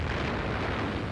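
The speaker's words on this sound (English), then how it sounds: "In the smoke of giant explosions" Giant explosions in a wartime raid on the German battleship Tirpitz roar as a dense, continuous broadband blast that fills the brief moment at high loudness.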